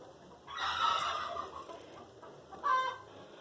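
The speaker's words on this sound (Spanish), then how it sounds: "Ahí ustedes van a escuchar bulla de gallina, de pavo, de perro." Chickens on a farm cluck close by, a short burst of throaty clucks followed after a pause by another brief cackle, heard alone over quiet background.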